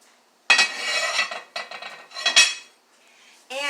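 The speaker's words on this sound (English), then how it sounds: "I'm going to put the lid back on." A lid is set back onto a pot of chili, giving several close metallic clanks and ringing scrapes in separate bursts, with a short gap before a final resonant clink.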